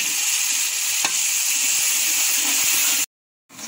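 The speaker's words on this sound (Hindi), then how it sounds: "अच्छी तरह मसाला भून लेना है।" Spices frying with tomato and green chili for chana pulao, a loud continuous hiss and sizzle with faint stirring taps, cutting to silence briefly before the sizzle returns.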